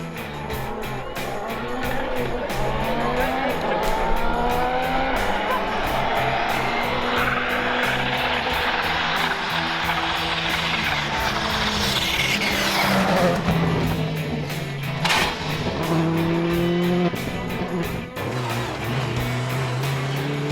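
Rally cars race through a night special stage, engines roaring and tyres skidding and squealing on the surface. The engine note rises and falls continuously, with a car sweeping past close by midway.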